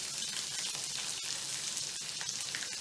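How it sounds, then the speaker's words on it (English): Sliced onions sizzle in a frying pan with oil and long slit chilies, a steady, fairly quiet hiss and crackle of frying that continues without pause and has no talking. "now add onions"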